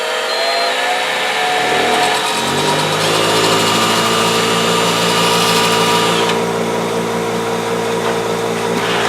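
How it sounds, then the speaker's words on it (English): An electric bench grinder runs on high while an aluminium rivet head, spun in a drill, is touched against it to bevel the edge; a steady loud motor whine with a rising, harsh grinding tone fills the clip alone. "Have it on high, turn on your grinder, and just touch it up against it"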